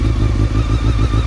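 A Honda CBR 600 F4 sport motorcycle fitted with a Delkevic Xoval exhaust idles loudly up close, with a steady, lumpy low-pitched throb and no voices.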